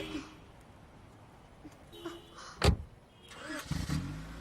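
A car engine starts: a short mechanical crank cuts through a quiet background, then a low engine rumble builds. It sounds moderately close, and no one speaks.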